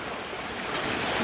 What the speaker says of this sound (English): this here is what they call Bully Brook. Nice little river.